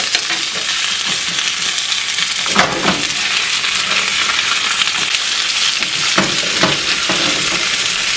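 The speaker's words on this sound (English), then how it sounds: "Now after I get this chicken lightly browned on the sides" Chicken pieces browning in a hot pan and being turned, a loud steady close sizzle with a few clattering scrapes as the pieces are flipped, no speech.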